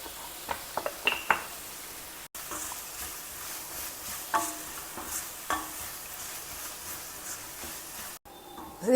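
Vegetables frying together in a pan for a homestyle Indian vegetarian dish, with a quiet steady sizzle, faint stirring scrapes and occasional clinks of a utensil against the pan.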